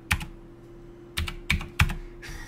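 Keyboard typing during a Baldi's Basics game session: a short key press near the start, then three sharp separate clacks spaced about a third of a second apart, fairly close and alone over a low steady hum.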